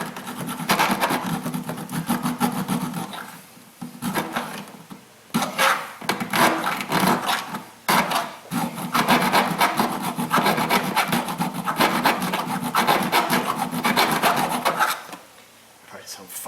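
A hand file rasps repeatedly against a bolt hole on a GM truck's hydroboost brake booster, close and loud rough strokes in quick bursts with brief pauses between, and a voice heard faintly at times.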